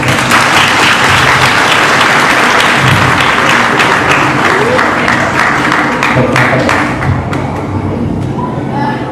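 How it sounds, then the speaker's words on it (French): A loud, close round of clapping from the audience at a live stage hypnosis show in Annequin, France, dense and sustained before thinning slightly toward the end, with a few sharp individual claps standing out. "On peut applaudir bien fort."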